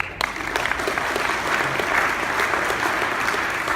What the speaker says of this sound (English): Give him a clap, please.